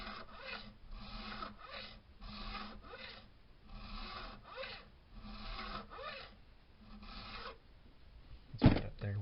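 Recrowning a guitar zero fret with a file makes about a dozen rhythmic rasping strokes, each one short and scratchy and close up, ending in a brief sharp knock.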